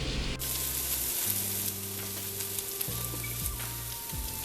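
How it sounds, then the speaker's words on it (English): Onions, cumin seed, clove and cinnamon stick sautéing for brown basmati rice make a steady, close sizzle with a soft crackling hiss, broken by occasional spatula stirs. "We're checking back in on the onions and cumin seed, clove, and cinnamon stick that's sauteing"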